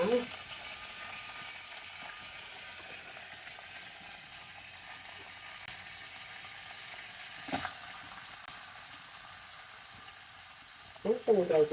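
A steady soft sizzle of onions sautéing in a pan, with occasional clinks and stirring scrapes, close by.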